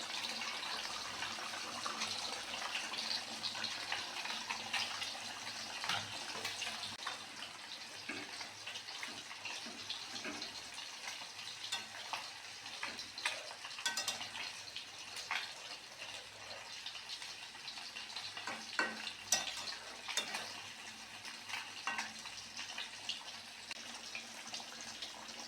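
Mustard paste simmering in a hilsa fish curry, a continuous bubbling, watery hiss with occasional spoon scrapes and clinks from stirring, fairly close and without voices.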